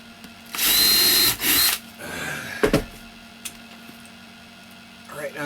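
Power drill boring into an OSB wall and striking a screw: two loud whining bursts, then a short grinding bite, followed by quieter scattered knocks and a person speaking.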